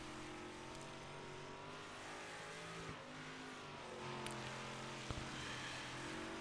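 Simulated 358 modified race car in a sim racing game at Cedar Lake, its engine droning steadily on track with sustained harmonic tones rising and falling slightly, a continuous even roar throughout.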